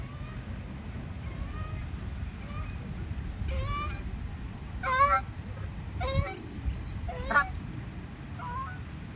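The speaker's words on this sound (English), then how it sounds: "But the geese that were here were loud." Several geese honk loudly in scattered calls over a low rumble of outdoor background noise, some near and some farther off.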